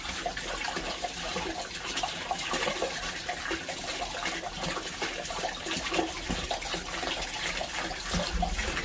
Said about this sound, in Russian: О, забулькало